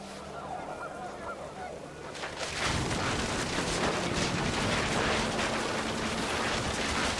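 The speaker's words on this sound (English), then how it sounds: "The wind picked up and panicked geese appeared and quickly went." Geese honk in a panicked flock as wind picks up outdoors; after a quieter start, a loud, dense burst of honking and rushing noise fills the rest of the stretch.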